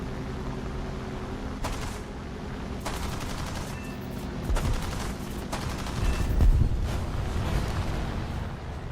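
20mm aircraft cannons fire in War Thunder, several short, sharp bursts spaced a second or so apart over a steady rumbling background, with heavier thumps near the end.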